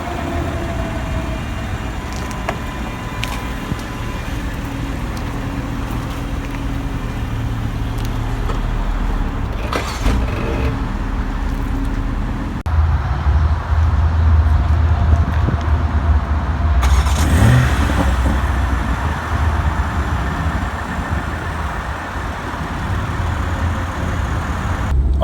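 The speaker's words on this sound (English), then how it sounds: "now I'm actually driving this 2021 Toyota Supra" Steady engine and road noise from a 2021 Toyota Supra on the move, a continuous loud drone that swells slightly partway through, with no talking.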